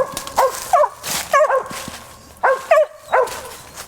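A hunting dog barks up at a squirrel treed in a short tree in the woods, sharp yipping barks in quick pairs and triplets, loud and close.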